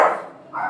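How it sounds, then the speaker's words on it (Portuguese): Pet dogs bark indoors in two short, loud yaps separated by a brief pause, close to the microphone with no talk. "Sempre meus cachorros querem participar"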